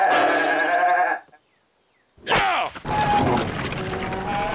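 A cartoon sheep in a Lucky Luke courtroom scene lets out a wavering bleat, then after a brief silence a clattering crash and mechanical noises follow, loud and close.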